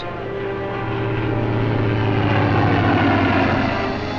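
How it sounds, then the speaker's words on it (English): Second World War Fleet Air Arm propeller aircraft flying overhead, a loud continuous droning engine roar that swells slightly and holds steady throughout, with no voices. "planes of the Fleet Air Arm and Coastal Command patrol the skies and search the seas"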